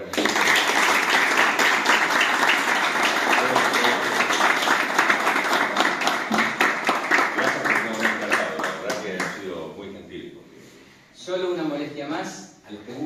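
An audience at a live event applauds, clapping mixed with voices that dominate the first half and then thin out, followed by a short burst of nearby sound near the end.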